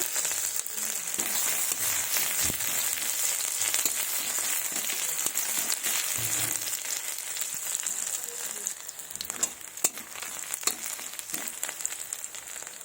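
Panch phoron spices fry with crushed onion in a hot pan, a close, steady hissing sizzle with light crackles and the occasional scrape of stirring, no voices heard.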